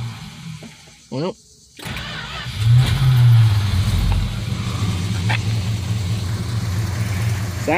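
A 1963 Plymouth Belvedere wagon with points ignition, awaiting a front suspension rebuild, is started, then settles into a loud, steady idle, with a voice over the engine.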